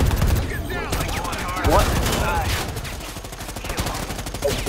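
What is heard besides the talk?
gunfire, from video game Predator Hunting Grounds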